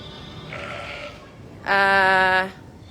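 A sheep gives a single loud, clear bleat lasting under a second, preceded by a fainter bleat, over quiet outdoor background on a farm during lambing season.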